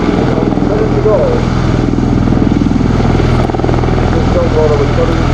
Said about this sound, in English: As Captain Perkins demonstrates the hovering and maneuvering capabilities of the Osprey